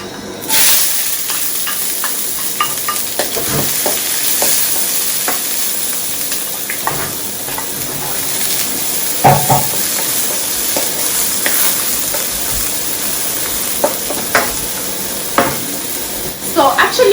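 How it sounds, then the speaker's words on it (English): Onions fry in hot olive oil under a loud, continuous sizzle and hiss, with frequent spatula stirs and clinks against the pan throughout, near and without speech. "Make sure the olive oil is hot before putting in your onions."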